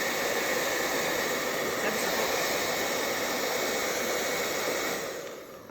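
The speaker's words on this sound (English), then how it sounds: "I use a hairdryer, and it just means that it dries a little bit more quickly." A hairdryer blows steadily to dry a drawing, a loud continuous airy whoosh held close throughout before it eases off slightly at the very end.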